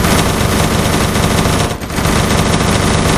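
Loud, continuous rapid gunfire from a realistic Gun3D weapon add-on in a video game fills the whole stretch, dropping out only briefly midway before resuming at full intensity.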